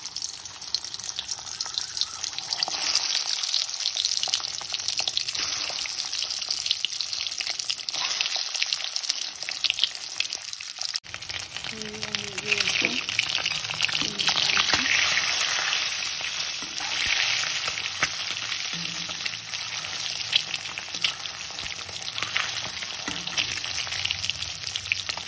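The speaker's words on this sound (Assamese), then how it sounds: "তেল পকিলে এতিয়া কণী কেইটা ভাজিম।" Eggs fry in hot oil for an Assamese-style egg curry, a steady broad sizzle that keeps going throughout, with a brief quieter dip partway and faint scraping sounds in the background.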